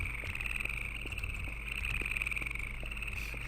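Loud in-game crickets chirp in a steady, high continuous trill, running unbroken beneath faint low background rumble.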